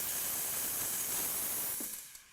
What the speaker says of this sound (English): Simply push it to the open position and the steam comes out.